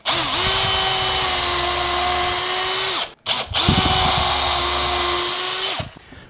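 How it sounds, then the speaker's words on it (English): Power drill boring small holes through a semi-hollow, fabric-top Jazzmaster-style guitar body held in a jig: two steady, loud whining bursts of about three seconds each, separated by a short pause, with no talking. "We'll put four teeny tiny holes through for our fixing."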